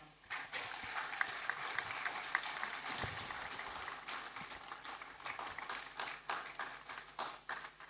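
Audience applause at a university research awards ceremony, steady dense clapping that fills the whole stretch at moderate loudness, swelling and thinning slightly toward the end.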